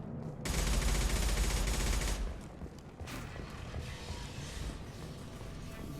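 Gunfire in the Mass Effect video game, a dense burst of rapid automatic shots for about two seconds, followed by further sustained firing at a lower, steadier level, with no talk over it.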